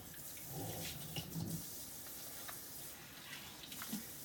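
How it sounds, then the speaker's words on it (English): Water runs steadily from a tap, rinsing Comet cleanser off a surface, a faint continuous splashing hiss with light clatter throughout. "So we just rinse off this Comet."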